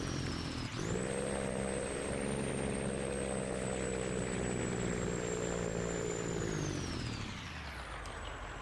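A loud truck engine in a trucking-and-auctions video game drones steadily at idle, a low harmonic rumble holding for several seconds before it winds down and is shut off.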